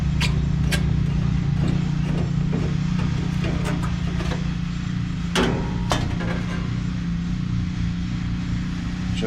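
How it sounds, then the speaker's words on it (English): An old R22 air conditioning unit's contactor closes with a couple of sharp clicks over a steady low electrical hum, fairly close, with no talking. "Just heard the contactor close."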